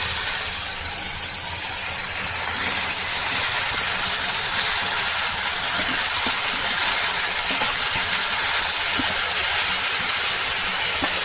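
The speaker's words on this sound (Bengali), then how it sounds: "বাঁধাকপিটা দিয়ে দেবো।" Cabbage tossed into a hot pan for a vegetarian thali sends up a broad, hissing sizzle that swells after about two seconds and then holds steady and loud, with no voices.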